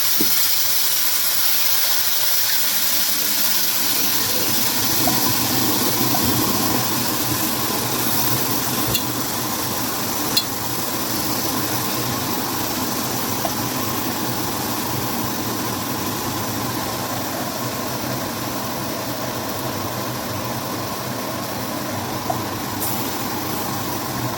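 Rice frying in hot ghee in a pan, a steady, even sizzling hiss that runs unbroken throughout with a few faint clicks, no talking.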